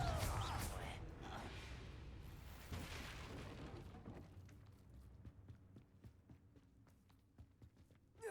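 A Confringo blasting spell explodes in the Hogwarts Legacy video game: a loud, heavy boom at the start, a second burst a few seconds later, then fading rumble and scattered small impacts.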